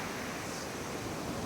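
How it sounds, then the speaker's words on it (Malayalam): Sea surf washing onto the shore on a fishing outing, a steady broad hiss and rush of water with no voices, even and unbroken throughout. "കടൽ വന്നു, കടൽ."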